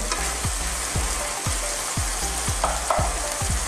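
Pork belly and liver menudo simmering in a pot as a spoon stirs it, with rhythmic scraping strokes about twice a second over a constant bubbling sizzle, close and without speech.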